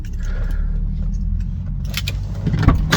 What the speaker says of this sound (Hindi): गाड़ी को ऑफ करेंगे।